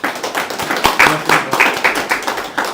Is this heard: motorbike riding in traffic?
no